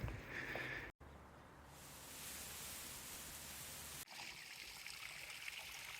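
Steady rushing trickle of a small tufa waterfall in the Queyras, a continuous broadband wash of water with a couple of abrupt cuts.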